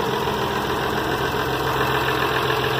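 The diesel engine of a Mercedes-Benz 1618 truck idles with a steady, close, unbroken drone and a slight knocking texture throughout.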